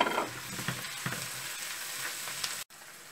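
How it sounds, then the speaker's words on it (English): Sliced green chilies frying with onions in a pan for chilli chicken, a close, busy sizzle with a few stirring scrapes, broken near the end by a brief dropout before the crackle resumes. "Now the chilies are well fried"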